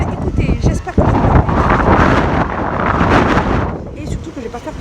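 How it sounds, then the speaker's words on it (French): Strong gusts buffet a handheld phone's microphone outdoors on a very windy day in Chiba, a loud, rumbling roar that swells and dips unevenly, with a voice talking underneath. "là ça bouge beaucoup parce que en fait c'est super venteux"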